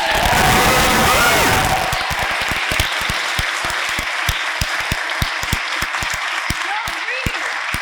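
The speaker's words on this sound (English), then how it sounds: "can we give him another round of applause?" An audience at a university debate society event applauds loudly, starting with a dense burst of clapping and cheering, then thinning into scattered individual claps that continue to the end.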